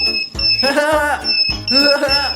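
Electronic alarm beeping in a shop, steady high tones recurring in bursts and mixed with loud, lively voices and music throughout.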